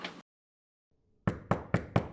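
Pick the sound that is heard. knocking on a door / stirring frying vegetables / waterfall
knocking on a door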